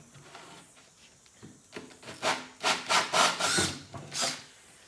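A 25mm hole saw cuts through plywood in a shipping container home, giving a run of rasping, grinding bursts that grow louder and more rhythmic after a quiet start, with no voices.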